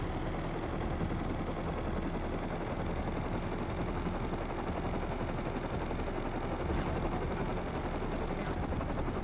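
A player-owned helicopter flying in the survival game Rust, a steady dense rotor and engine roar that fills the whole stretch at constant loudness, with no voices.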